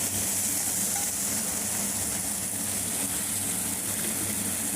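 Chopped tomatoes dropped onto frying onions in a pan while making ghugni give a steady, loud, dense sizzle that holds unbroken throughout, close up with no talking.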